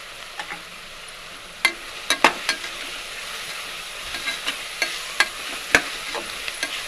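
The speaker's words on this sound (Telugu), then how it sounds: "బాగా కొంచెం గోల్డ్ కలర్ వచ్చేదాకా వేగించుకుని" Onions fry with turmeric in a pan until golden, a continuous low sizzle with scattered sharp clicks of a spoon against the pan, close up and without voices.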